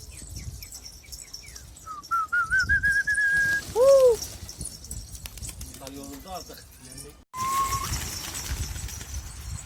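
Birds in a pigeon loft give whistling calls and chirps over a low background rumble, close by and moderately loud, with a short break near the end.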